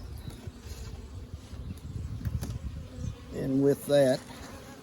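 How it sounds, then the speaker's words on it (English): Honey bees fill a hive super box, their low buzzing droning close and continuous, swelling into two louder bursts near the end, with someone speaking briefly over it. "This box is filled with bees."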